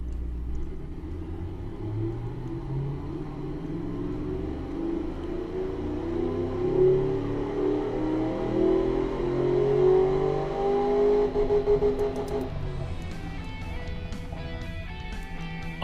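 Simulated 5-liter V8 engine in the Automation car game, a 1991 luxury car, revving with a deep rumble that climbs steadily in pitch over about twelve seconds, then drops back to a lower idle-like drone, heard alone.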